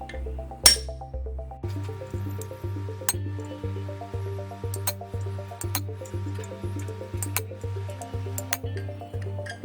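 A blacksmith strikes a chisel on steel, hot cutting it, in an even train of ringing metallic clinks, roughly two per second, each leaving a short bright ring.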